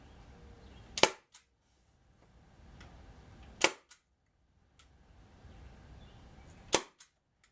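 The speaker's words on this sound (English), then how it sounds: "Now I put a staple in between each one. Get it stapled down good." A staple gun fires three times at even intervals, each a sharp close snap with a small rebound click, while fabric is stapled down onto a simple camper cushion; quiet rustling fills the gaps.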